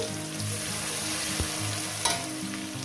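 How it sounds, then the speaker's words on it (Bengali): Sliced onion fries in hot oil with whole garam masala and cumin for a spicy katla fish curry, giving a close, steady crackling sizzle with a couple of soft stirring knocks. "পেঁয়াজটাকে আমি ভালো করে মিনিমাম দু তিন মিনিট ধরে ভেজে নেব"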